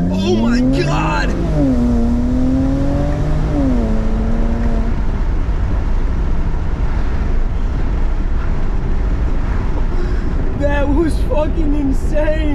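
A BMW 335i with an N54 engine and antilag accelerating hard: revving engine tones climb and shift through the opening seconds, then give way to a loud, sustained roaring rush. Excited voices are heard over it.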